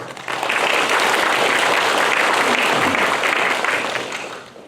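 Guests at the Chungcheong Confucianism International Forum opening receive a warm welcoming round of applause from the audience; thick, even clapping swells in quickly, sustains, then fades toward the end.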